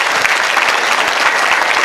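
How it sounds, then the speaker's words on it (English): An audience at a gender sensitization session claps in a brief, loud, dense burst of applause with no talk over it. "Give her a big round of applause."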